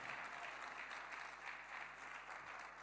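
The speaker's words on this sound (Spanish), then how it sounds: "Eso merece un aplauso al Señor" A church congregation applauds in a faint, distant, steady patter of many hands, with a low hum running beneath.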